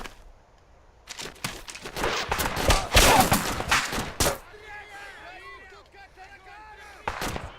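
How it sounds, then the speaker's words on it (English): Video game gunfire erupts as hostile soldiers open fire, a dense, loud volley of shots and booms that gives way to lighter crackling fire, with a voice faintly underneath. "He started shooting me"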